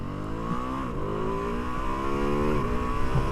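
A Ducati Multistrada V2 S adventure motorcycle revs high while riding, its engine note rising and dipping through gear changes, loud and close under steady wind noise.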